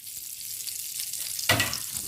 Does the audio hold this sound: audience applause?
no